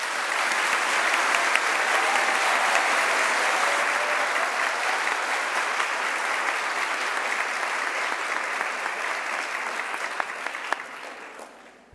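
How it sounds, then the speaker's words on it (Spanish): Sustained applause for new graduates at a Universidad de La Sabana degree ceremony, a broad, even roar of many hands clapping that holds steady for several seconds before tapering off at the end. "un aplauso de nuevo para todos ustedes."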